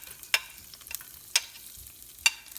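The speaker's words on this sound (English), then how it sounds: "our oil is hot now, and the heat is turned on medium heat, and then I'm going to add our garlic" Garlic hitting hot oil over medium heat in a pan: a steady low sizzle with three sharp spoon-on-pan clinks spaced through it, close and alone with no talk.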